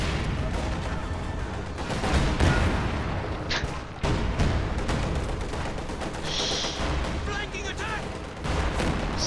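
Rattling machine-gun bursts from an MG34 mix with artillery thumps and other gunfire in a World War II strategy game battle, steady and mid-distance under continuous talk.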